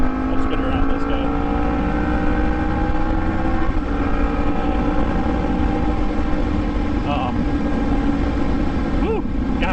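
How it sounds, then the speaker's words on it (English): A Yamaha MT-10 motorcycle fitted with an Austin Racing aftermarket exhaust rides along, its engine a loud, continuous growling drone that rises and falls gently in pitch, with wind rush throughout. "Absolutely growls. So much better than the stock exhaust."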